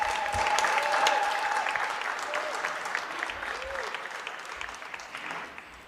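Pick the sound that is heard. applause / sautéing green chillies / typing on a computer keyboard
applause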